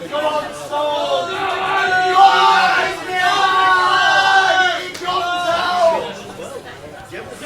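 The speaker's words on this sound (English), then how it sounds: "there's a few of the crowd getting a bit excited." Excited crowd chatter at a darts match, a dense mass of overlapping voices rising and falling in bursts, steady and fairly loud throughout with no single speaker standing out.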